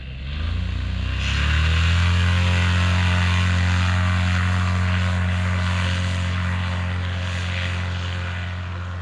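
Propeller airplane engine droning loudly at a small-airfield fly-in, swelling as the aircraft approaches and then holding a steady, close roar that eases slightly toward the end.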